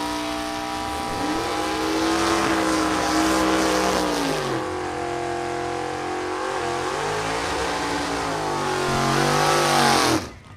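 A 1941 Willys sedan C Gas drag race car from Detroit, Michigan, at a vintage drag race, its engine holding a loud, steady, rough roar with pitch dips and rises before cutting off.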